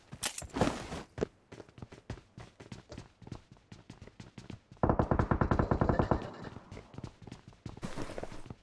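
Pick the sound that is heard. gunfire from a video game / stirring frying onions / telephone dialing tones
gunfire from a video game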